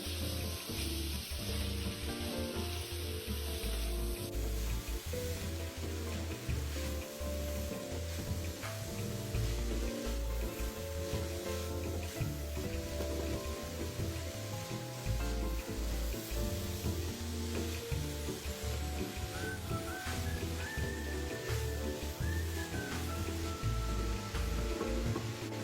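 Shredded yam bean stir-fried in a wok for a large batch of spring roll filling, giving a continuous loud sizzle with repeated scraping and tossing of the spatula throughout and no talking.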